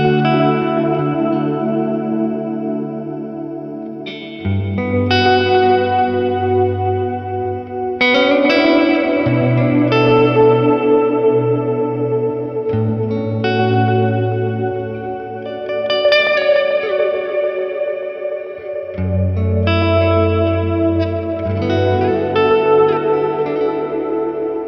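An ambient guitar tone fed through a Fairfield Maude analog delay gives a continuous wash of sustained chords and ringing melody notes with chorus-like shimmer and echoing repeats, loud and close and without talking.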